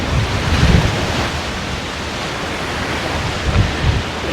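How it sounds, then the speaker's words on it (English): Wind gusting on a Bahamas beach on CocoCay island, a loud, steady rush of noise across the microphone with a few stronger buffets, with no talking. "The wind is blowing."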